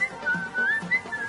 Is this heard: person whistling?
yes